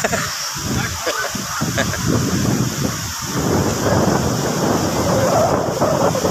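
Rain and gusty wind on a Boracay beach during a low-pressure storm, a steady loud roar with buffeting wind noise against the microphone throughout.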